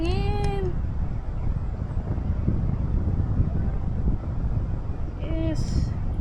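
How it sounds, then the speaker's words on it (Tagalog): Strong wind buffets the microphone steadily throughout on an open mountain ridge, a constant low rumbling roar, with brief high cries at the start and again near the end. "Masarap ng hangin."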